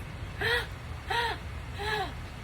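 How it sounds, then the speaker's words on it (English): Three quick, sharp inhalations of the yoga breath of joy, spaced evenly and fairly close, each a short voiced gasp with a faint hum underneath. "breath of joy is a 3-part breath"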